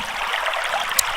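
A waterfall gives a steady, loud, broadband rush of falling water with no pauses. No one speaks.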